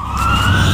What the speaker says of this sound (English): So nice little sirens running through.